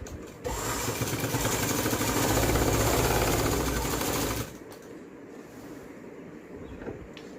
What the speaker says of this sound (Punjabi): ਜਿਹੜੀ ਸਲਾਈ ਲੱਗੀ ਹੋਈ ਇਸ ਦੇ ਉੱਪਰ ਮੈਂ ਸਲਾਈ ਲਾਵਾਂਗੀ